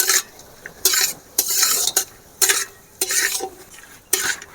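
Cashews, raisins and whole spices fry in ghee and oil while a utensil scrapes the pan in about six distinct, evenly spaced strokes over a soft, steady sizzle, with no voices.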